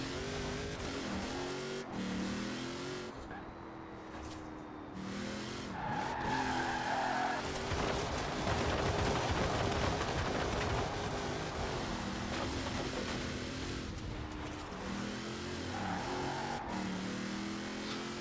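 A Ford Mustang Fastback in Forza Horizon 4 drifts with a loud, continuous engine roar that rises and falls as it revs. Long tire squeals run beneath the engine, and brief gear-change dips break up the sound.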